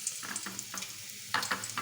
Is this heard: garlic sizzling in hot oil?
yes